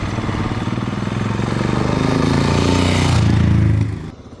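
A Royal Enfield Himalayan motorcycle engine drones steadily at close range for several seconds, its low rumble holding even before cutting off abruptly near the end.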